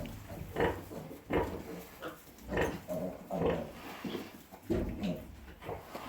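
A farrowing sow and her newborn piglets grunt in repeated soft bursts, with low snuffling grunts mixed with higher squeaks, fairly close and faint throughout.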